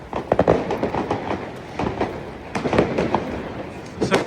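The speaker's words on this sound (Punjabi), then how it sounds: "ਸਰਕਾਰੀ ਤੌਰ ਤੇ ਵੀ ਬਹੁਤ ਚਲਾਉਂਦੇ ਆ ਪਟਾਕੇ" New Year fireworks and firecrackers go off in Germany, a dense crackle of rapid bursts and pops at middle distance, in loud clusters that swell and ease over a continuous rumbling wash.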